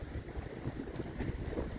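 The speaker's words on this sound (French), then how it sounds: "vent qui vient bien de la mer" Steady wind gusting in off the sea along a coastline, a continuous low rumbling roar with buffeting against the microphone and no voices.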